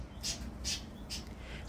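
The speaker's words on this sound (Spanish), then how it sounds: "ahí anda el montón de pájaros" A flock of birds calls near a nest in a flowerpot, three short harsh squawks at a steady spacing, fairly faint, with no talk.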